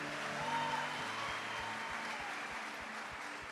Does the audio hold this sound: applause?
yes